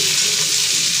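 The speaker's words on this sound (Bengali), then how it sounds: "সবজিগুলো ঢেলে দিলাম, সবজিটা একটু ভেজে নিই" Chopped vegetables fry in a hot pan with a loud, steady, close-up sizzle, a dense hiss that holds unbroken throughout with no talking.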